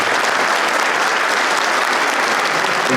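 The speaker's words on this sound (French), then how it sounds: "Je pense qu'on peut l'applaudir." Loud, dense applause fills a live public history show in Strasbourg, a steady roar of many hands clapping close by without a break.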